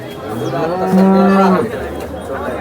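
A Jersey cow moos once, a long low bellow in the middle, with faint background murmur around it at a cattle market in Sangola.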